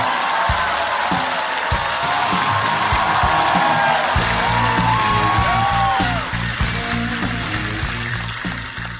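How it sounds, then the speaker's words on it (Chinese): A stand-up comedy audience bursts into loud, continuous applause mixed with whoops, yells and cheering, sustained for the full nine seconds as a performer is welcomed to the stage. "掌声有请齐溪"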